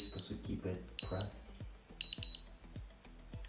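USB rechargeable hair curler beeping repeatedly in short high electronic bursts, single and paired beeps spread over a few seconds, close by with someone talking between them.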